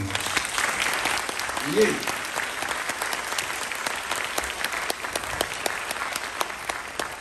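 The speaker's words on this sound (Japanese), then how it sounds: "もう一度トランペット隊に大きな拍手を" A jazz concert crowd claps warmly for the trumpet section of a big-band orchestra, a steady, evenly dense applause with one brief shout of cheering near the start.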